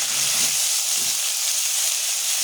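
Onion paste fries in a pan for a rohu fish curry, giving a loud, close, continuous hiss and sizzle while it is stirred, with a few soft low knocks early on.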